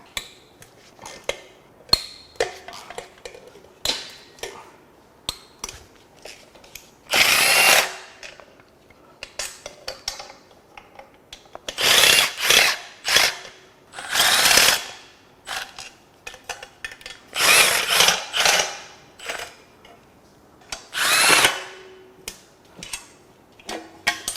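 Hand tools working loose the tight intake bolts on a high-mileage Toyota 3RZ engine during a teardown, with scattered ticks and clinks, then several loud bursts of ratcheting in quick runs separated by pauses, close up.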